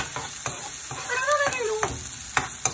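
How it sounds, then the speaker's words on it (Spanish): Pizza sauce sautéing in a pan with a steady soft sizzle and scraping stirs; a brief high warbling squeal rises partway through, and a couple of sharp clicks land near the end. "Lo sofreímos un poquito."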